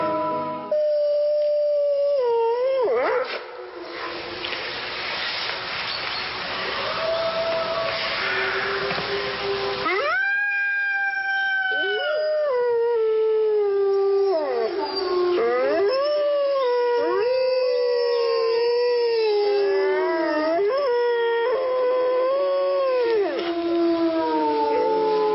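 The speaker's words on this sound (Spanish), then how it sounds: "Escuchando ahora mismo es el aullido del lobo" A lone wolf howls in long rising and falling wails, several separate howls, loud and close, with a burst of broadband noise early on.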